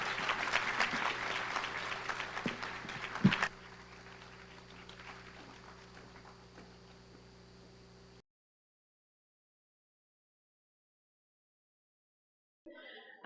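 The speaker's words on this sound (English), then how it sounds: "Let's give her a round of applause." An audience at a family caregiver symposium claps for about three seconds, then the applause stops and only a faint room hum remains before silence.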